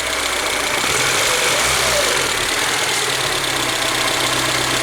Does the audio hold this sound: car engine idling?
yes